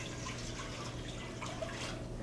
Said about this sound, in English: We're going to start off with our water and our fancy pitcher here.